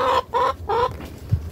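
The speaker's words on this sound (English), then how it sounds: "Hello, chickens. Hi, chickens." A hen clucks three times in quick, even succession, close and clear, followed by a soft low thump.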